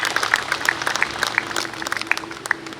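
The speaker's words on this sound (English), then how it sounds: "calls for a huge round of applause" An audience applauds at the MECL Golden Jubilee Foundation Day celebration: a steady wash of many hands with sharper individual claps standing out, holding at a moderate level throughout.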